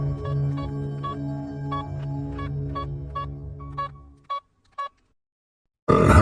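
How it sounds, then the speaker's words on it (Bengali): A telephone being dialed as a sound effect in a Bengali horror audio drama: a rapid series of about ten distinct keypad tones over a low hum, then a short silence and a sudden burst of noise at the end. "এই কথা মাথায় আসতেই আমি অবনীবাবুকে ফোন করি।"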